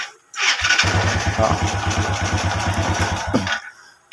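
A cold Honda Wave 100 motorcycle engine catches on a single electric-start click and settles into a steady, close idle for about three seconds before cutting off, with a brief exclamation at the start.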